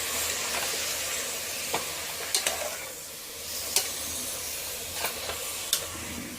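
Chicken curry is stirred in a frying pan, a continuous sizzle and hiss broken by several sharp scraping clicks of the spoon against the pan.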